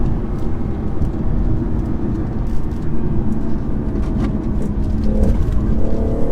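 A 2017 BMW 440i Gran Coupe pulls hard under acceleration on the road. A dense, steady engine and road roar with rumbling low tones runs continuously, heard from inside the car.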